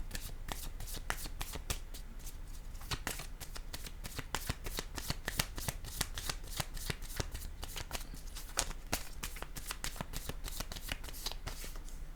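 A deck of tarot cards being shuffled over and over, giving a dense, steady run of crisp riffling flutters and slaps for the whole stretch, close and fairly loud, with no talking.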